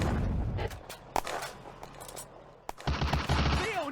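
Heavy gunfire rattles through a World War II Eastern Front battle in the video game Firefight, with rapid bursts and sharp reports in quick succession, then a louder, denser volley near the end. No voices are heard.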